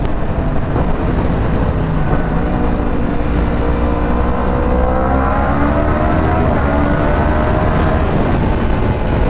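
A Yamaha R1M motorcycle accelerates hard through a tunnel, a loud continuous roar whose engine pitch climbs steadily across gear pulls. It is heard close up, with no voices.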